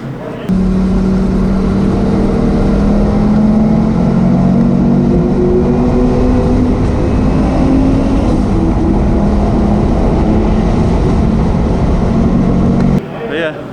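Porsche 944 with a swapped 07K five-cylinder turbo engine driving, a loud continuous engine drone with shifting tones and road or wind roar, close throughout.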